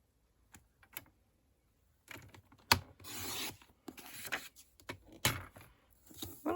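Card is cut to size for making envelopes, heard as soft, close scraping and rubbing strokes with small clicks and handling noises, quiet and irregular, with no speech.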